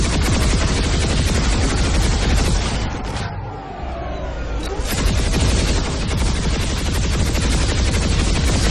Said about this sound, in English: Trying to shoot us with his gem gun.